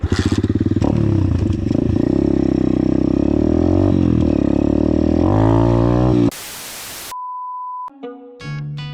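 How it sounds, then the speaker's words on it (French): A 2020 Apollo 125 RFZ motorcycle engine, kick-started, idles and revs unevenly for several seconds, then cuts to a burst of noise, a steady beep and electronic tones. "Normalement elle démarre au premier coup de kick"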